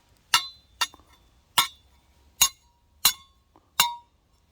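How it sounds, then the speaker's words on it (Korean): Six bright metallic clinks ring out one after another at a steady, unhurried pace, each with a short shimmering decay, from an old cow bell dug up while metal detecting being shaken. "종 옛날에 뭐 소들한테 다뤘던 그 원앙 소리 같은 거 그런 거 같은데 소리는 엄청 좋아요"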